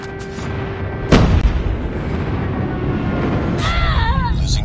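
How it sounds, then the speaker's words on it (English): Enemy airstrike explosions in the Call of Duty Mobile game, a heavy boom hitting sharply near one second over a continuous rumbling battle bed, with a brief spoken alert. "Enemy airstrike incoming."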